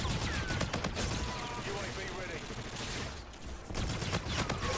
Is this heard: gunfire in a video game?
yes